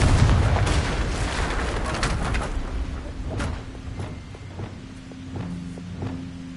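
Confringo fire spell from Hogwarts Legacy erupting in a loud booming blast at the start, its rumble fading into quieter clicks and a steady low hum.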